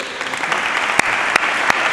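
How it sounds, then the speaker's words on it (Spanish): A lecture audience applauds at a commemorative talk on 175 years of the Rocío in Coria: dense, steady clapping throughout, with a few sharper individual claps standing out. "Fuerte aplauso para él."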